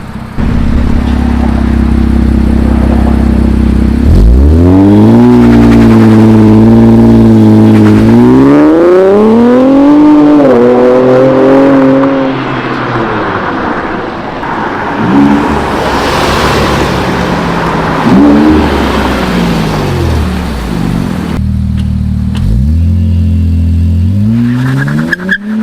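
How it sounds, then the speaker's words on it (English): An Infiniti Q50 with the VR30 engine and a valved aftermarket exhaust idles loudly, then goes through several rising and falling revs in a row. The exhaust note is close, deep and raspy, and it settles back toward idle at the end. "that was the Q50 exhaust"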